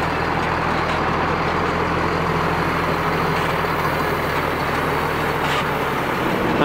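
A Renault Magnum truck on rough roads in Guinea gives a loud, steady low engine drone that holds without a break from start to finish, close by.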